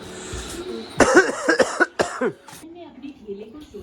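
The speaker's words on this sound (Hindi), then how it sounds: "खांसी बहुत ज़्यादा आ रही है" A burst of several harsh coughs in quick succession, close and loud, followed by quieter throat sounds and faint background noise.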